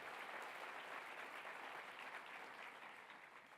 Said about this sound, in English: I want to give you all a round of applause for your activism